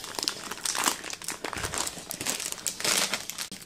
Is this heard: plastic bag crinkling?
yes